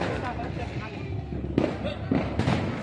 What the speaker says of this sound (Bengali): তাড়াতাড়ি তাড়াতাড়ি সবাই দেখো কিভাবে বাজি ফাটাচ্ছে।